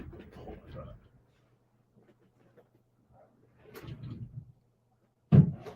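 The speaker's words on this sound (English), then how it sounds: "Let me close my closet door here." A closet door is shut indoors, ending in one solid thump after quiet shuffling and brief bits of talk.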